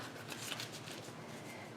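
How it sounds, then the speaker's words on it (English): A deck of oracle cards is shuffled by hand, giving a quick run of soft papery riffles and flutters, close and fairly quiet. "So what I do here is I give the cards a shuffle"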